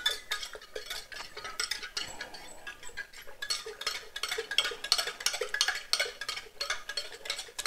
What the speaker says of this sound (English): And then we're gonna stir this up.